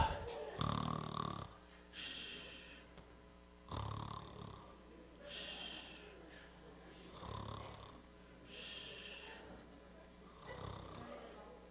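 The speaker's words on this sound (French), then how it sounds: "tu ronfles" A person snores in slow, regular cycles, five or six rasping inhalations spaced a couple of seconds apart, close and fairly quiet, with no other sounds between breaths.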